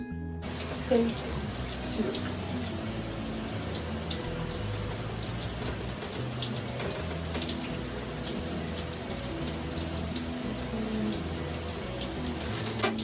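Shower water runs steadily during a wash day for knotless box braids, a dense continuous hiss and splatter with occasional bumps and shifting low rumbles throughout.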